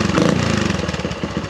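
A Honda XL175 dual-sport motorcycle engine idling close by, a steady uneven putter with a slightly rough, pulsing rhythm, loud and alone.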